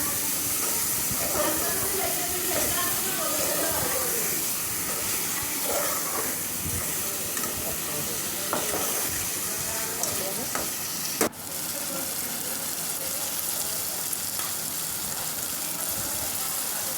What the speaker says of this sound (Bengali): এই যে টমেটোগুলো দিয়ে দিলাম, কুচি কুচি করে রেখেছিলাম ওগুলো দিয়ে দিলাম। এখন এগুলো একটু নাড়াচাড়া দিয়ে দিব।